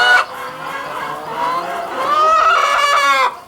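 Chickens cluck and squawk steadily as a flock crowds around feed soaked with water, a busy, continuous chorus of overlapping calls that swells louder toward the end.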